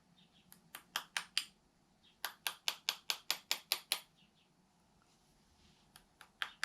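Sharp metallic taps from a small hammer striking a nail against a roll pin in an AR-15 bolt carrier group, in two quick rhythmic bursts of about five and nine hits, then a few scattered taps.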